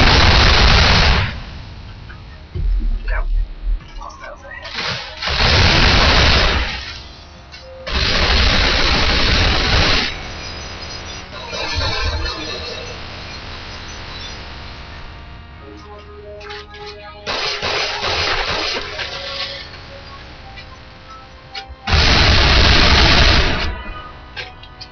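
Machine gun fire from the Damnation video game comes in repeated loud bursts separated by short pauses, with quieter game sounds in between.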